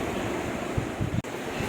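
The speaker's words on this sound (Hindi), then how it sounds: "कूलर में पानी डाल रहे हैं" Water poured into a household air cooler on a warm day makes a steady, rushing splash that runs without a break from start to finish, with no voices.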